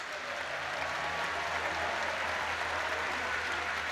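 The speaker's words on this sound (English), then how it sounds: "please give a round of applause" Crowd applause in an arena at a EuroLeague basketball final between Olympiacos and Real Madrid in Kaunas, a continuous distant roar of clapping and cheering with a low hum beneath it, steady throughout.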